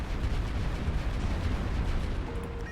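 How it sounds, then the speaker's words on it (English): A plasma cannon fires in the Final Theory video game campaign, a sustained heavy roaring blast with dense low rumble and no speech over it. "You're going to use your plasma cannon"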